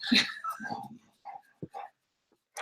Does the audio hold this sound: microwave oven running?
no